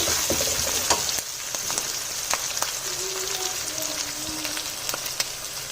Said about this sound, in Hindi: ऑयल में ज़ीरा डाला है, उसके बाद उसमें मैं तेज़पात डाला है और एक टुकड़ा दालचीनी का डाला और प्याज और हरी मिर्चें डालनी है